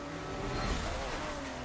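Engines of racing cars in a video game roar steadily as staggered starters pull away, a loud continuous droning hum that swells slightly midway through.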